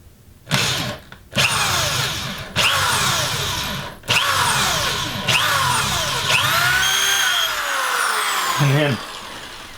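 A power drill bores into wood while building a Dutch door for a tiny house, whining in repeated loud bursts that speed up and slow down, with pauses between runs and a final winding down.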